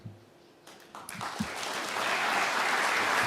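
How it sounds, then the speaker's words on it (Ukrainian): Scattered claps build quickly into full, sustained applause from a large audience at an international summit for cities and regions, growing louder and denser toward the end. "Це вам оплески."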